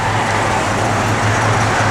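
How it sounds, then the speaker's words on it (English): The heater blower motor of a 1969 Chevrolet Camaro SS Convertible runs with a steady, even whirring hum that stays constant throughout, with no talking. "Blower motor does work."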